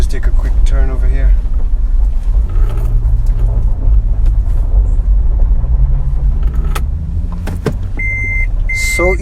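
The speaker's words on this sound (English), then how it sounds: "We're in a bit of a rocky road, and this is driving really nicely." A Toyota FJ Cruiser with a 4-liter V6 driving over a rocky road, a loud steady low rumble from inside the cabin, with someone talking over it and a few short beeps near the end.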